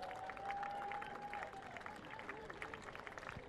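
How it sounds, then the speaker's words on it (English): Crowd applause at the TT Supersport race podium ceremony, a faint, distant patter of clapping with some voices mixed in, heard outdoors at low level. "Give him a round of applause, folks, please."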